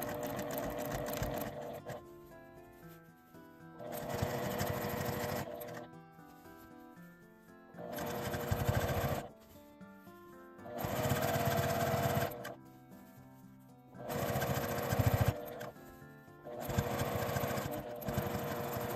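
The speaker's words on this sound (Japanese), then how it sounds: "縫い代の固まっているところは縫いにくいのでゆっくり縫います。" A sewing machine stitches slowly through the thick seam allowance of a small lined cotton seersucker tote bag in four steady bursts of several seconds each, with short quiet pauses between them.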